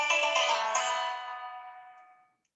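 A mobile phone ringtone chimes with a bright tonal melody, loud at first and then fading away over about two seconds until silence.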